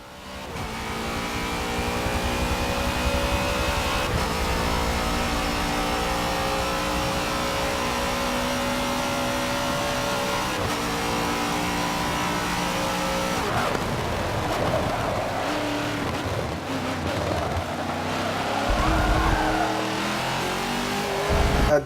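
Race car engines drone and rev continuously in Forza 7, with a steady high engine tone that shifts pitch as gears change and another car's engine joins, loud throughout with no talk.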